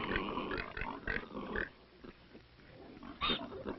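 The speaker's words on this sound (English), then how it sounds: "Pigs are bred not only for their meat, but also for their manure," Pigs on a rural Chinese farm in the 1970s give several faint grunts and oinks, close but quiet, over a dull, grainy background with no talking.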